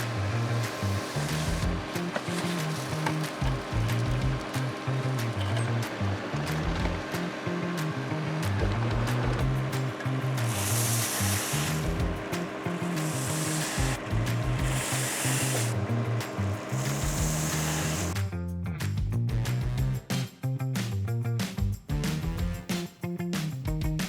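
A skid loader works nearby moving landscaping material, its engine droning steadily with rising and falling revs, broken by scraping bursts of scooped and dumped material; no one speaks.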